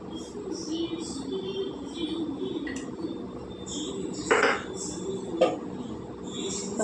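Onions with turmeric being stirred in a cooking pot, faint scraping under a low background hum, with a couple of sharper metallic clinks of a spoon against the pot.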